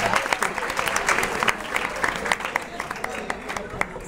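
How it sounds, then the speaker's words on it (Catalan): Students in a school quiz show studio audience break into lively clapping, many hands with distinct sharp claps standing out, while a host's voice carries over the top. "aplaudim, aplaudim"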